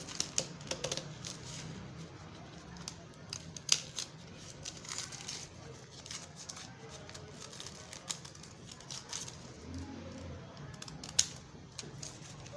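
Scissors cut through a fabric pattern piece with a series of quiet, close snips and rustles, spaced irregularly over a soft background.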